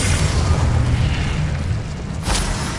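Confringo explosion spell cast in the Wizard Simulator video game, a loud, rumbling boom with deep low-end weight that sustains throughout, then a second burst near the end.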